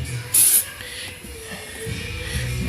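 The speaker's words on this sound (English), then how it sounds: "That's the great thing about this bedliner spray," A can of bedliner spray gives one short, sharp hiss as it coats cracked, chewed-up ATV plastic, followed by quiet rustling and handling noise.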